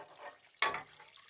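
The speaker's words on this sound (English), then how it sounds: "I'm going to add a can of water" A can of water is poured into a pot of thick vegetable soup at home, a short splashing gush that starts abruptly and then trails off into quiet kitchen noise.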